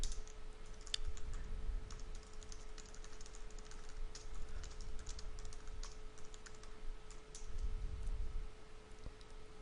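Steady, light clicking of a computer keyboard as text is typed, close and fairly quiet, continuing throughout with a faint electrical hum beneath and no talking.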